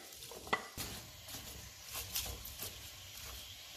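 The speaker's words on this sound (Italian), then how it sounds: "Ho messo a scaldare in padella un bel giro d'olio. Aggiungiamo i carciofi." Artichokes frying in hot olive oil in a pan, a faint sizzle with soft stirring scrapes and a couple of light knocks, no talking.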